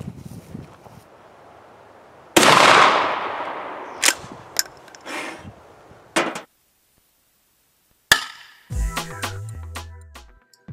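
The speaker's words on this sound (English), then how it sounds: "Anytime you get to shoot somebody in the face with supersonic VHS" A supersonic launcher fires a VHS tape in one loud, close blast with a decaying tail. Scattered cracks and clattering impacts follow, then a low rumbling rattle near the end.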